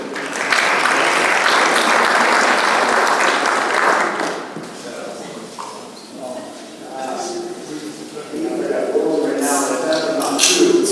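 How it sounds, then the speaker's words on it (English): An audience at a conference claps to welcome speaker Vitor Mercadante, a loud dense burst of applause that eases off midway, with voices talking under it before clapping swells again. "let's give Vitor a round of applause and start the conference"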